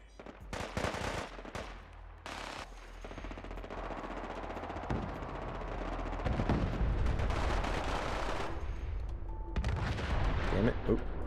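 Heavy gunfire with bursts of automatic fire and booming grenade explosions in the video game Fallout 4, dense and continuous over the whole stretch, with a person's voice partly mixed in.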